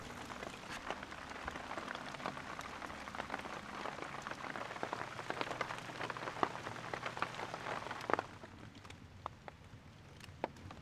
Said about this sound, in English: I have just been laying here waiting for the rain to stop. Doesn't seem like it's gonna stop. It's nice and light, at least